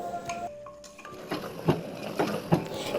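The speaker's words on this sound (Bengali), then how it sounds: "আবারও আমরা এটাকে খুব ভালো করে নাড়াচাড়া করব আর মশলাটাকে কষাবো খুব ভালো করে" Mutton being stirred with masala in a pot, a spoon scraping and knocking against the metal in repeated strokes, several sharper clanks standing out near the end.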